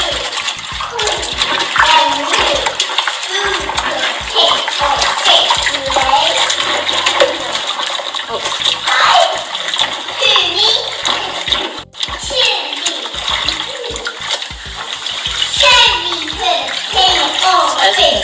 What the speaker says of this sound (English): So let's soak this bad boy. And I'm just going to hand wash this.